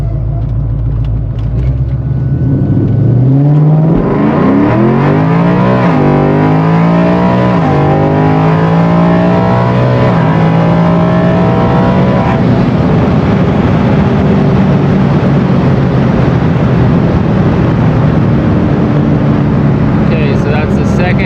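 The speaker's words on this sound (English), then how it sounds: "I've data logged a full wide open throttle pull for them" A Ford Foxbody Mustang with a swapped-in Coyote V8 makes a wide open throttle pull. Its loud engine note climbs steeply through several gear changes, then roars on at sustained high revs until the end.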